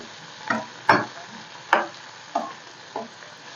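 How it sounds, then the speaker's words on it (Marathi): Tomatoes sautéed in a pan for butter chicken give five distinct spatula scrapes and knocks at uneven intervals over a low sizzle, close and fairly loud, with no voices. "टोमॅटो चांगले सॉफ्ट होईपर्यंत आपल्याला परतून घ्यायचं"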